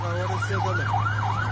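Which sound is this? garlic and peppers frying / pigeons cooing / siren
siren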